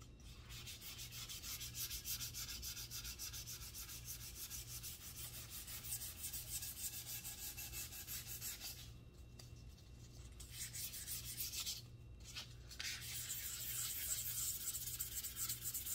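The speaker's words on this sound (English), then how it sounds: "Now I'm trying to sand with the grain mostly." Steady, close scraping of 400-grit sandpaper rubbed back and forth along the grain of a wooden guitar body, continuous with two brief pauses and no talking.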